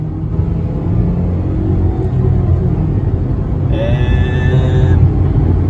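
A 2012 Dodge Caliber SE accelerates at full throttle while pulling onto a freeway into traffic, producing a steady, loud engine drone and road rumble heard from inside the cabin.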